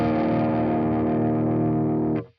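Distorted electric guitar through the BIAS Amp 2 amp modeler with treble turned down and presence boosted rings out loud and sustained, then cuts off abruptly near the end, with no talking.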